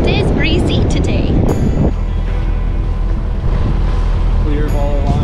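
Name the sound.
wind blowing on a sailboat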